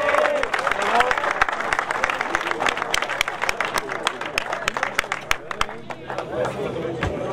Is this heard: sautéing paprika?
no